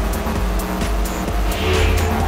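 Racing car in Midnight Club Los Angeles roars continuously with steady engine drone, brief tire squeals and passing whooshes, loud and close, no talk.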